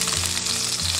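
Lamb sizzles hard in a hot wok after ginger and scallions, a loud, dense, continuous frying hiss close up.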